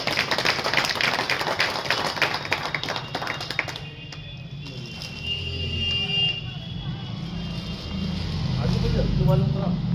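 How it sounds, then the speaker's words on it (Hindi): A crowd claps at an outdoor farmers' union rally for a turban-honoring ceremony, dense clapping that thins midway beneath a loud amplified voice speaking, with crowd murmur continuing. "जोरदार तालियां हो जाए दोस्तों।"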